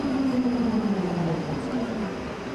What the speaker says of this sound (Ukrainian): Зараз ми з вами подорожуємо львівським трамваєм.